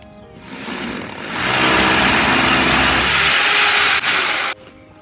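Power drill boring a 12 mm hole into insulated concrete formwork blocks, a loud steady grinding whine that ramps up, holds for about three seconds with a brief dip, then cuts off abruptly.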